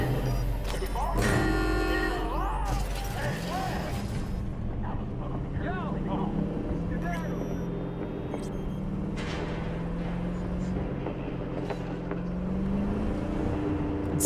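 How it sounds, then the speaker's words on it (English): A car in the video game Cyberpunk 2077 has an overheating engine that gives a loud, rough, continuous rumble with whining pitch shifts and sharp clanks, under an ongoing mix of game sounds. "It's the engine overheating."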